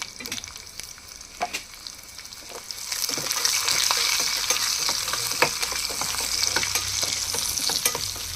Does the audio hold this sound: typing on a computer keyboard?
no